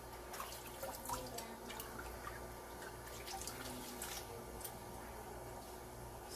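Water drains slowly from a kitchen sink after collard greens are washed, with a screen over the drain, making a faint, steady trickle with scattered small drips and gurgles in a quiet room.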